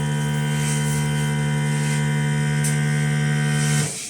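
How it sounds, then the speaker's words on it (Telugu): Vacuum pump of a nano coating machine running with a loud, steady low droning hum and strong harmonic tones, close by, before winding down at the end. "సక్ చేస్తుంది, వాక్యూమ్ సక్ చేస్తుంది."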